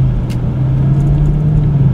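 A 2013 Lexus IS F on the road, a loud steady engine drone with low rumbling hum, close and continuous with no voices.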